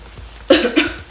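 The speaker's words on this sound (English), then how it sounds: "cough" A single person gives two sharp coughs in quick succession, close and fairly loud against a quiet background.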